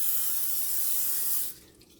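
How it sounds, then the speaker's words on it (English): Cooking spray hisses steadily onto a baking pan for spaghetti bake, a loud continuous close-up spray that stops abruptly near the end. "we're gonna spray our pan"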